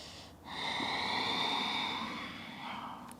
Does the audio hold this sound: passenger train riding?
no